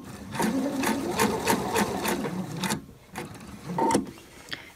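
A sewing machine stitching the fly facing on a pair of trousers, running in rapid repeated bursts of needle strokes, then pausing and giving a few short separate stitches, close and loud with no talking.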